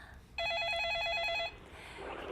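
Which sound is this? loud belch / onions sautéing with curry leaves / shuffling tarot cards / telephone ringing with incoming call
telephone ringing with incoming call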